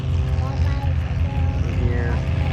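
Propeller airplane taking off at the Oshkosh airshow, a steady loud low engine drone with prop buzz filling the whole clip, while people talk over it.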